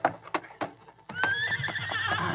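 A horse in a Western radio drama clip-clops slowly with a few hoof strikes, then lets out a loud, quavering whinny that carries for over a second, close by.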